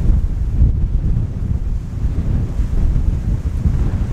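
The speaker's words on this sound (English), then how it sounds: "Man, it is windy today." Strong wind buffets a microphone outdoors beside a beehive, a loud, continuous low rumble that surges and eases without pause and with no talking.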